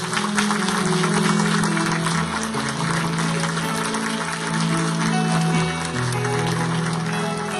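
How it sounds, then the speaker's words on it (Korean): Sustained applause from a church congregation at a completion ceremony, dense and continuous clapping that stays fairly even, with a low background hum beneath it. "우리 박수로 축복해 주십시오."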